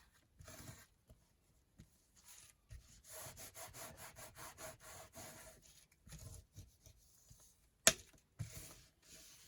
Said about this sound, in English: I'm going with my bone folder and just really burnish that down.